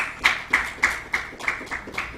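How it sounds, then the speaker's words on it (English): Roughly eight evenly spaced hand claps ring out in a steady rhythm, close and fairly loud, as a small group on a relationship talk show gives a round of applause. "Let's give her a round of applause."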